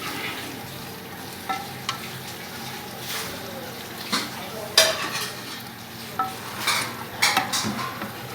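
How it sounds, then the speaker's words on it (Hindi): Meat for aloo gosht sizzling and frying in a pot while being stirred, with intermittent clinks and scrapes of a spoon against the metal over a steady low sizzle. "अब मैं इसमें गोश्त डालने लगी।"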